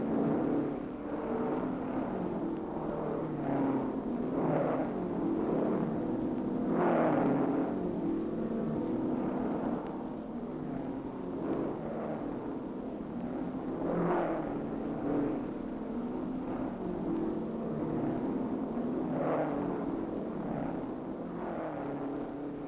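Sports cars from 1964 race on the street circuit through the town of Pau, making a steady, distant engine drone with repeated swells as cars pass, and no voices.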